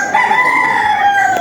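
A domestic rooster crows once, close and loud, in a single sustained call lasting over a second.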